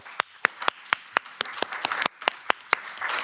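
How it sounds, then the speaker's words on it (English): Sparse clapping from a conference audience, with a dozen or so sharp, distinct claps spaced irregularly over a few seconds, close and crisp against a quiet room. "So I would like to ask for a round of applause for them"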